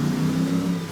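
A race truck's engine holds a steady, rumbling rev for under a second as it is driven, loud and close.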